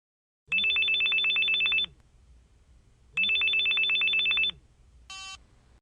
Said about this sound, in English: Listen to Brad's phone call.